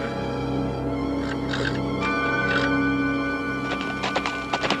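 A caught wild horse whinnies loudly several times, with clip-clop hoofbeats and scuffling nearby in an outdoor Western setting.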